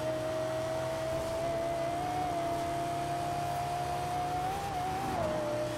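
Lexus LFA engine in Forza Horizon 4 holding a steady high-pitched V10 wail throughout, loud and continuous with slight pitch rises near the end, no talk over it.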